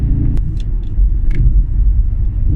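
An Audi RS4 with a V8 engine rumbles low and loud as it downshifts, heavy engine drone with a few sharp pops or clicks standing out near the start.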